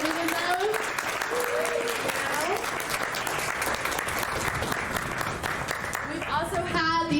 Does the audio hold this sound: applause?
yes